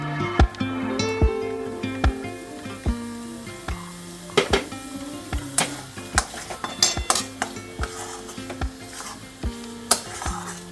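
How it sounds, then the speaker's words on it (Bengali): A utensil stirs raw paneer in mustard oil in a pan, with repeated sharp clinks and scrapes against the metal over a soft sizzle, close and uneven in rhythm. "এমনভাবে নাড়বে যেন পনিরগুলো ভেঙে না যায়"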